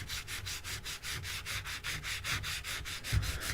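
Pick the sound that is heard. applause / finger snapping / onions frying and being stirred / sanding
sanding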